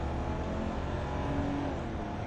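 A used car pulls hard along a road on a test drive, a steady, muffled engine drone from inside the cabin building briefly as it climbs through a gear.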